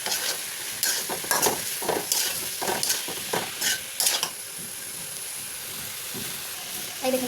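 Elephant apple pickle is stirred in a pan, a close, soft sizzle broken by repeated scraping strokes of a spoon at an irregular rhythm, the strokes thinning out toward the end.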